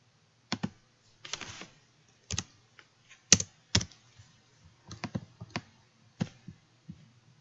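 Computer keyboard keys clicking in short separate bursts, several single taps and a few quick clusters, close and clear, with no talking.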